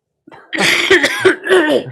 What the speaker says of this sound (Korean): 기침을 하시네요